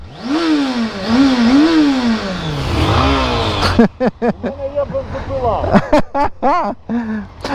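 A Honda Hornet motorcycle engine revs up and down in loud rising and falling sweeps, then gives a series of sharper throttle blips as people talk nearby.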